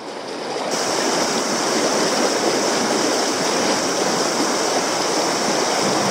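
Fast river water rushes and churns steadily around a person wading across with a rucksack, a loud continuous close-up roar that swells in after the first second and holds for the rest, with no talking.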